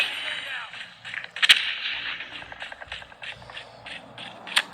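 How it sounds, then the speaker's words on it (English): Rapid gunfire in a Call of Duty mobile match played on a Xiaomi Redmi 15 5G, a quick series of crisp shots with louder cracks among busy game effects. "Sentry gun ready to deploy. Sentry gun deployed."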